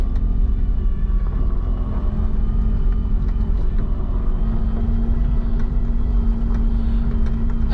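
A 1990 Suzuki Jimny engine pulls steadily in second gear on a gravel road, a continuous close low drone with a firm hum that holds level throughout, with no talk.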